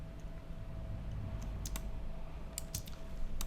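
Computer keyboard keys, arrow keys and the Shift key, tapped in scattered light clicks, a few isolated presses and short bursts, soft and close in a quiet room with no talking.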